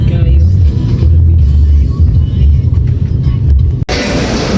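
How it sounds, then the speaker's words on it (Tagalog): Cars move through traffic on Cagayan de Oro streets with a dense, close rumble of engines. A vehicle swells past, and faint voices sit under the noise. "Traffic naman gyud sa asa labi na ron."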